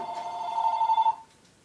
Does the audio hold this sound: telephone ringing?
yes